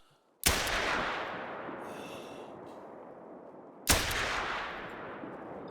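Two single gunshots from a .243 single-shot handgun in the hunting game theHunter, each a sharp loud crack followed by a long rolling echo, spaced about three and a half seconds apart.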